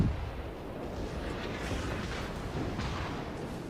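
Naval gunfire from the battleship Amagi in World of Warships, heard as a heavy, rumbling boom that lingers and rolls on with no clear separate shots, loud and alone without voices.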